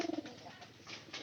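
A pigeon gives a short, soft coo, quiet and brief against faint room background.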